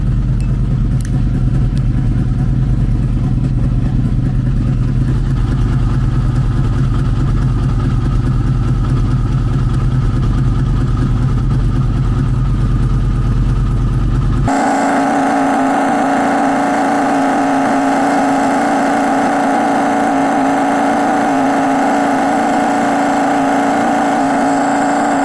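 A Cadillac engine idles inside a garage with a steady, loud, low drone; midway the idle drops to a lower, smoother hum that continues unbroken.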